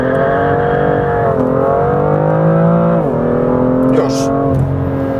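A BMW M2 F87 pulls hard from a standing start, its loud engine tone climbing steadily with brief dips at each gear change, as a voice speaks briefly over the close, continuous roar.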